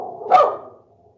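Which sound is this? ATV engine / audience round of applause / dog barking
dog barking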